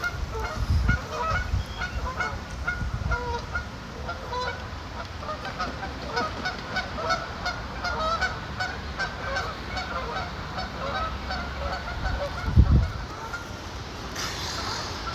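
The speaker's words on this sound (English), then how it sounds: "geese flying. Wings is thick, ain't they?" Geese fly close by, honking repeatedly in a flock chorus at moderate loudness, with a louder nearby burst near the end.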